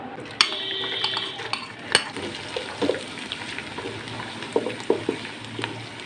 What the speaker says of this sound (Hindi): हल्का सा इसको हमने फ्राई करना है